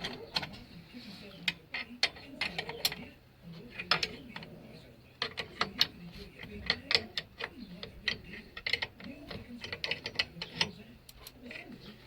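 A ratchet tightens the bolt on a rear subframe bush of a Daewoo Matiz, giving a steady run of sharp clicks with brief pauses between bursts, close and moderately loud, with faint voices now and then.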